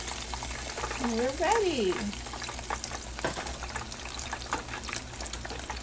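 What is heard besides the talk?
catfish pieces frying in oil in a pan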